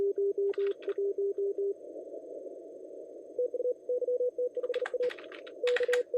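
An amateur radio station on the air during a CQ WW WPX contest, working another station in Morse code, with clear keyed tones in quick bursts, short breaks and faint clicking keys.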